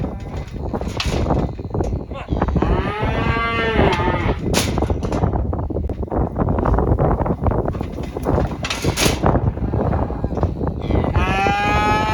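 Several loud, drawn-out moos from a calf caught in a barbed wire fence close by, repeating over a steady background rumble with some bleat-like cries mixed in.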